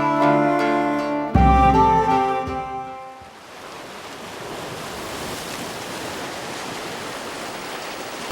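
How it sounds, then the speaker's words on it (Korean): Ocean waves wash steadily against the rocky shore of Jeju Island, a broad continuous surf roar that swells in after a few seconds of sustained tonal music and then holds loud and unbroken to the end. "파도는 지난 반세기 동안 이곳에도 끊임없이 몰아쳤다."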